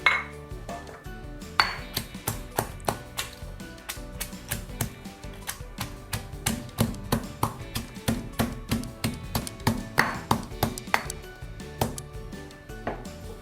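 Steady pounding of lemongrass with a pestle in a mortar, sharp wooden knocks about two per second, close and alone, with faint clinks between strikes.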